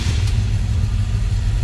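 A 1966 Chevrolet C10 Custom Cab Fleetside with a 350 small-block Chevy V8 rumbles steadily up close, with a brief rev at the start settling into a deep, even idle.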